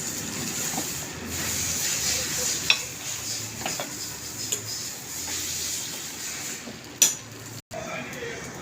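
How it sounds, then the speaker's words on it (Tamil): White paniyaram batter cooks in hot oil, giving a steady, fairly soft sizzle throughout with a few sharp clicks and one brief dropout near the end. "வெள்ளை பணியாரம் ஊற்றியாச்சு இது நல்லா வேகட்டும்"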